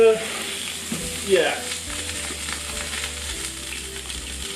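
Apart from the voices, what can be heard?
chicken stroganoff frying in hot oil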